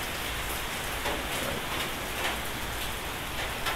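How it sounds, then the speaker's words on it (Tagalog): Steady rain pours down near Polillo Park View on Polillo Island, a dense, even hiss of drops on surfaces that continues without pause and with no voices. "Umuulan guys"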